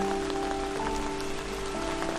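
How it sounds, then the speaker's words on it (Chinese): Rain falls outdoors at night on an art students' painting outing, a steady, even patter and hiss that fills the whole short stretch. A faint continuous hum sits underneath. "虽然已经开始下雨了"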